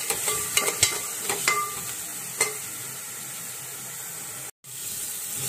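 Sliced onions with salt fry in a pan for mutton biryani, sizzling steadily and close, with sharp scraping stirs near the start that fade into an even hiss and no talk.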